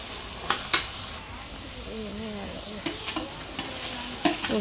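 Fried paneer curry being stirred in a pan, with a brief sizzle and a few sharp clinks of a spoon against the pan over soft background talk.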